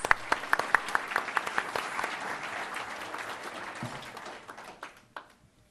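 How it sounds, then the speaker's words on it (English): An audience at an awards ceremony applauds in a steady wash of many hands, with a few sharper nearby claps standing out before the clapping tapers off and fades. "So let's give them a round of applause."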